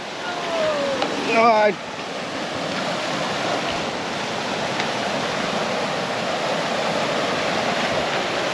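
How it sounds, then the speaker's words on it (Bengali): A small waterfall in Jharkhand roars as a constant broadband rush of falling water close by, with a brief whistle-like chirp near the start. "ঝর্ণার যে আওয়াজ সেটা শুধু দেখুন।"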